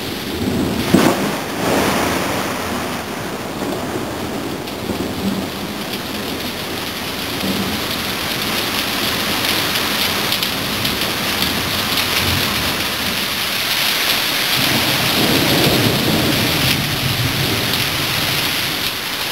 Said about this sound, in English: I've never seen it rain so hard for so long.